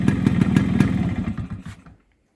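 A Yamaha RX100 motorcycle engine runs close by during a general service, giving a steady rapid two-stroke putter with clattery pulses, then cuts out and falls silent near the end.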